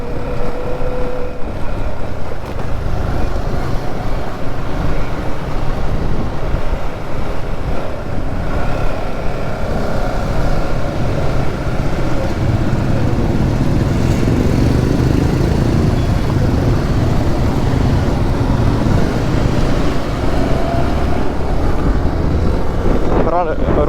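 A superbike rides fast on an open road during a bike rally, its engine droning loud and steady under rushing wind for the whole stretch, while a rider's voice talks over it.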